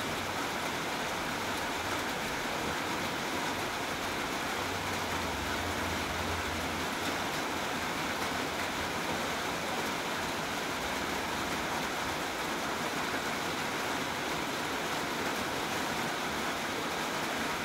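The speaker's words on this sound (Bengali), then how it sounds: "এবার ঝোলটাকে আমি ফুটিয়ে নেব।" Fish curry broth with potatoes and papaya boils in a pot for a Bengali koi fish dish, a dense, continuous bubbling hiss that stays steady and fairly loud throughout, with no talking.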